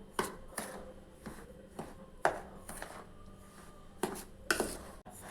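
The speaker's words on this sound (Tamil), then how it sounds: "ரெண்டுத்தையும் ஒன்று சேர கலந்து விட்டுக்கலாங்க." Semolina and powdered sugar being mixed together for rava laddu, a spoon knocking and scraping against a bowl in a series of sharp clinks and scrapes, close and fairly quiet, with no talking.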